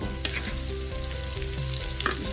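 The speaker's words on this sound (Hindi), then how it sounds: "सभी को अच्छे कलर चेंज होने तक फ्राई करना है" Chopped onions and green chillies fry in a pan with a steady, close sizzle and occasional stirring scrapes, no talk over it.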